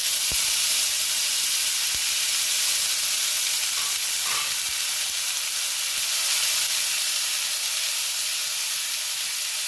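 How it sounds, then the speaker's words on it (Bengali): Onions frying in oil in a pan after cumin seeds, browning for a masala soybean dish; a steady, close, even sizzle and hiss runs throughout with a few faint clinks and no voices. "পেঁয়াজটাকে আমি ভালো করে লাল লাল করে ভাজবো"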